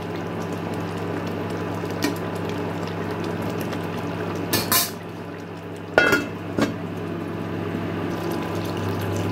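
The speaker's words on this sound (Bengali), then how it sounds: "এখন আমি আবারও ঢাকা চাপা দিয়ে এই কোফতাগুলোকে 1 মিনিটের জন্য ভালো করে ফুটিয়ে নেব।" A pan of chhana kofta curry simmers under its lid with a low, steady bubbling hum. A few clinks and sharp knocks rise above it now and then. No one speaks.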